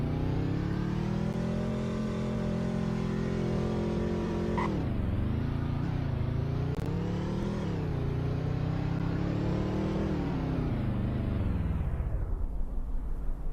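A car in the Roblox game Greenville runs a braking test, its engine droning loud and steady with shifting pitch before winding down sharply near the end as it slows, with no talking.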